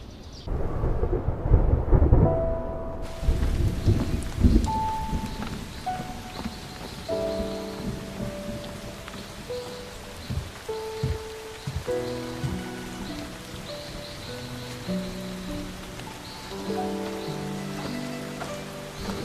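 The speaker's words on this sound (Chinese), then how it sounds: "下雨了" Steady rain pours down with rumbles of thunder, while soft melodic tones play throughout.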